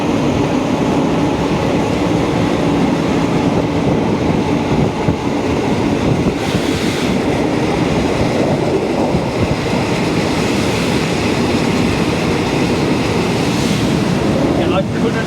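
Thai train riding the rails near the Malaysian border: a loud, continuous rumble and rattle of wheels and carriage with wind noise, steady for the whole stretch and with no voices.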